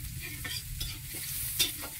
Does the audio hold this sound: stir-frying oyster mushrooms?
yes